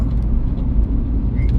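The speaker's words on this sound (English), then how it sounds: "it's so much traffic out here" Steady, loud road traffic in San Francisco, California, a dense low rumble of passing cars and heavier vehicles with a brief higher brake-like squeal near the end.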